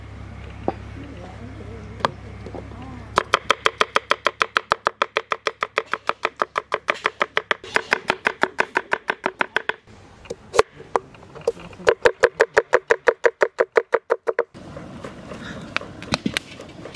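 A knife chops ingredients for a village-style river fish and potato curry in fast, even strokes, repeated in long close bursts with short pauses between them.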